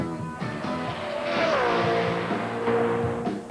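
NASCAR Winston Cup race car with a louder modified exhaust at Rockingham in 1995, a sustained engine roar rising in pitch as it passes, with a second car's tone sliding in behind.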